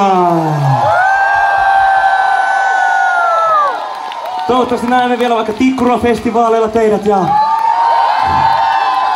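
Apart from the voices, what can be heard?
concert crowd cheering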